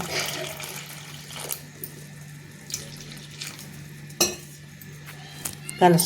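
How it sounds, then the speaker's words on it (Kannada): Ragi flour being mixed with water in a bowl, soft intermittent stirring and wet scraping over a low steady hum, with a few sharper knocks near the end. "ನೋಡ್ರಿ, ಇದಕ್ಕೆ ನೀರು ಹಾಕ್ಕೊಂಡು ಕಲಸಿ"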